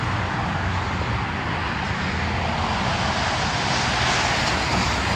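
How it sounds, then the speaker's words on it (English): Constant loud roar of passing traffic on I-225 beside Nine Mile train station's island platform, a dense broadband rumble with no pauses and no voices. "it's very loud because it's right next to I-225, or between I-225"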